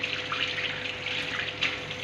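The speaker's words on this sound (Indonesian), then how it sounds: "kita hidupkan air keran dengan siku-siku" Tap water runs steadily from a faucet into a sink during handwashing practice in a skill lab, a continuous close hiss with small splashing changes, no talking.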